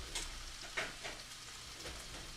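Chorizo sizzling and frying in a pan on a stovetop, a steady close crackle with a few brief stirring scrapes and no voices.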